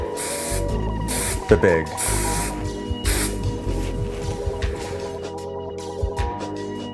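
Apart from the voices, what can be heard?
hairspray being sprayed onto styled hair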